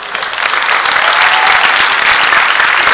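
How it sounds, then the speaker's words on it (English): A crowd at a Florida event bursts into dense, loud applause that holds steady and close for the full three seconds. "So I want you to give yourself an applause."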